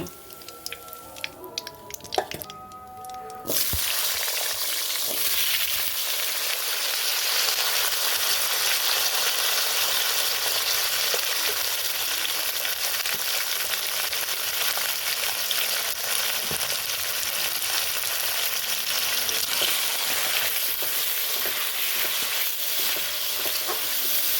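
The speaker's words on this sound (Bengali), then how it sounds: "এখন মাছের জন্য আলু ভেজে নেব" Loud, steady sizzling of potatoes frying in hot oil, continuous and close, after a few seconds of clattering and handling noises.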